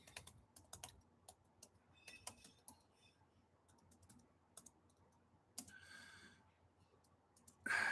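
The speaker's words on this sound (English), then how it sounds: "let me type out my address so you can send me a message" Quiet bursts of computer keyboard typing, uneven clusters of light key clicks with pauses between them and a louder clack near the end.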